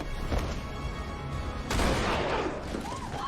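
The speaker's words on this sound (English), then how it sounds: "They shot him in the arm." A gunshot from a TV episode of the time-travel drama Timeless rings out as a sharp burst with a rumbling tail amid dramatic background score, heard fairly faintly through playback.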